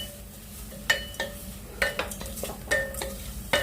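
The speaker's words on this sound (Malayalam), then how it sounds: "ഇത് വഴറ്റൊന്നും വേണ്ട, 1 മിനിറ്റ് നന്നായിട്ടൊന്ന് ഇളക്കുക." A spoon scrapes and clinks against a pressure cooker while vegetables are stirred for vermicelli upma, giving irregular metallic taps over a soft, steady sizzle, close up with no talk.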